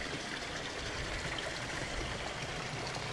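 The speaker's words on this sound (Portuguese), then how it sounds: "Ó, a água dos tanques está vindo de lá suja, está caindo aqui." Dirty water returning from fish tanks pours down through a filter, a steady, even rush of splashing water without pauses or voices.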